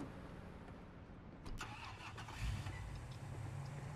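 An in-game car engine cranks and catches around mid-clip, then settles into a steady low idle with a slight rev, heard alone over a constant background hum in Police Simulator: Patrol Officers.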